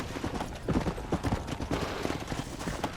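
Horse hooves gallop in the video game Red Dead Redemption, a rapid, uneven run of thuds and clops over a busy game-sound background.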